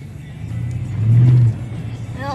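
A truck engine revs near and loud, the drone swelling to a brief peak before settling back to idle, with a voice speaking faintly toward the end.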